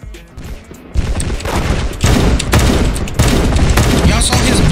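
Gunfire in the Roblox game Da Hood, loud rapid bursts of shots and booms stacking densely after a quieter start, continuing as an intense barrage.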